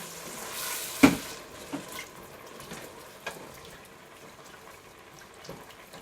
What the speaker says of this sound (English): So I'm going to go in with some water.